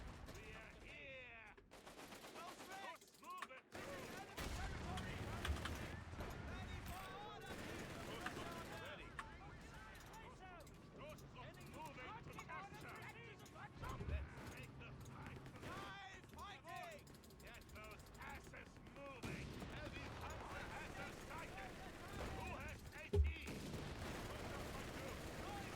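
Sustained machine gun fire in a war strategy video game with the Tactical Escalation mod, dense bursts of gunfire and fusillade over a steady battle din, with a voice talking on top throughout.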